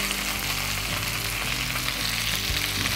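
Drumstick leaves fry in oil in a pan as poriyal, giving a loud, dense, continuous sizzle up close with faint stirring underneath and no speech.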